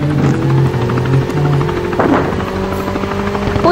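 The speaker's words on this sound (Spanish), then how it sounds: "¡Viene un helicóptero!" A helicopter in the Call of Duty: Mobile shooter game, a loud steady rotor drone with tonal engine hum that stays close and continuous, broken by a brief burst of other game noise midway.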